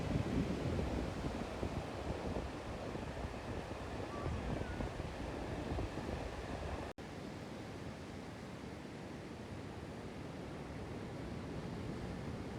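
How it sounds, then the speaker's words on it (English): Ocean waves at a Costa Rica beach make a continuous broadband wash with gentle swells, mixed with steady wind buffeting on the microphone, and no clear voices. "I use the rest of my day to just take in the beach and enjoy the waves."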